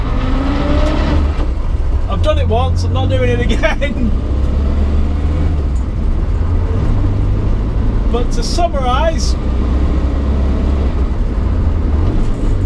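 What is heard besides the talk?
Morris Minor car driving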